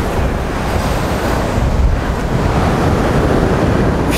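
Sea waves wash onto a beach in Turkey near Alanya in a continuous loud roar, with wind buffeting the microphone.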